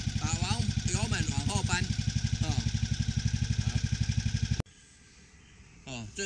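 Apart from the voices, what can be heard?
American 4218 riding lawn mower engine running after key start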